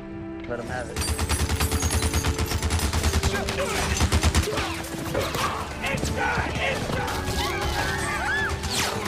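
Rapid bursts of machine-gun fire rattle in fast, even rhythm, loud and close, with crashes and impacts layered over a droning musical background.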